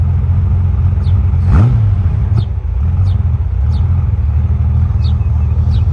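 A Honda Goldwing motorcycle engine idles with a steady low rumble during carburetor synchronizing, a brief rev rising and falling near the start, while faint chirping sounds repeat in the background.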